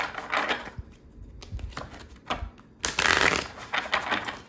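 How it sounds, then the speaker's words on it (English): Oracle cards being shuffled by hand in repeated riffling bursts, close and fairly loud, with brief pauses between rounds and no talking. "Let me just shuffle these again because I pre-shuffled them earlier."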